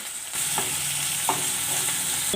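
Thinly sliced onions hitting a hot oiled pan, a sudden steady sizzle that starts just after the beginning and continues, with a couple of soft stirring knocks.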